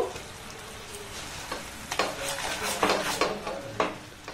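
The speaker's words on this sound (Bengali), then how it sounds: "লবণটা দিয়ে এটাকে আমি আবারও একটু নাড়াচাড়া করে নিয়েছি।" A thick, heavily reduced mixture with added salt being stirred in a pot: a soft simmering sizzle with several distinct scraping and clinking strokes of a utensil against the pot in the second half, no talking.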